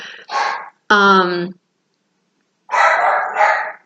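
A dog barks a few times up close, sharp yips in two groups with a pause between them.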